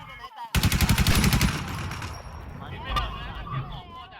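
A rapid burst of automatic gunfire in a shooting video game, a dense rattling volley lasting about a second, then fading echoes and scattered shots, with voices talking underneath.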